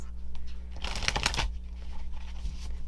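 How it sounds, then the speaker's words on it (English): Cards are riffled and shuffled in a quick flurry of papery flicks and taps, close by, with a low hum underneath. "Never sure if I should include shuffling or not"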